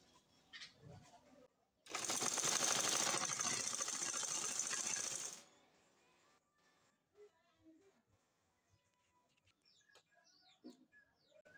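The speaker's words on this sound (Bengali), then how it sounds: "এভাবে রেখে এখন আমি সেলাই করে নিব।" A sewing machine stitches a hijab in one loud, fast, continuous burst lasting a few seconds, then stops, leaving quiet handling noises and faint rustles.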